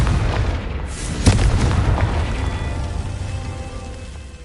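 Confringo spell explosion in a Harry Potter video game, one deep booming blast with a rumbling tail that slowly fades, loud and close.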